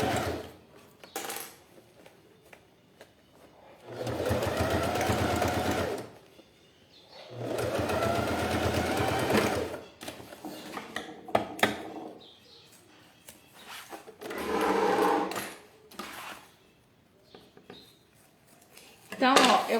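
A sewing machine stitches a thermal lunch bag in several bursts of steady rapid whirring, each a few seconds long, separated by quieter pauses with handling noises and brief speech.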